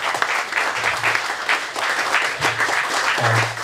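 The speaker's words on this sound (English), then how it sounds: "So if we could just have a round of applause for Diana from Ignite" Applause at an evening event for organisation partners, a room of people clapping warmly and steadily for a few seconds, close and fairly loud, with a few voices low beneath the claps.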